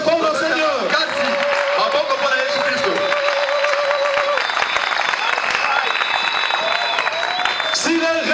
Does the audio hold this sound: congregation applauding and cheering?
yes